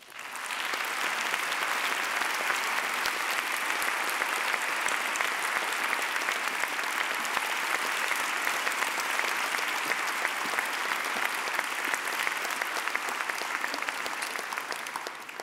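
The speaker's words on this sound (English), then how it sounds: "Thomas Insel, let's give him another round of applause" An auditorium audience applauds after an oration, a dense, sustained wash of clapping from many hands that continues steadily for the whole stretch without talk.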